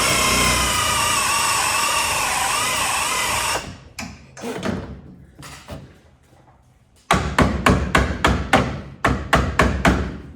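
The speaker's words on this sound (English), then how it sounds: "just drilling out spot welds and then popping it up with a big pry bar as I go" Spot welds on a truck panel are drilled out with a continuous high whine that stops after a few seconds, then a pry bar makes scattered clanks followed by a rapid series of sharp metallic knocks, close and loud.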